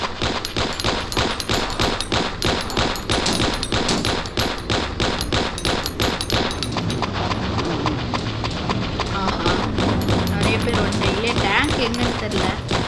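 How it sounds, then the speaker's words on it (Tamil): Loud, rapid gunfire from the video game Payback 2 rattles in fast, steady bursts, almost without pause, with a voice talking over the shooting. "நானும் சுட்டுக்கிட்டே இருக்கேன் எவனும் சாவரமே இல்லையே"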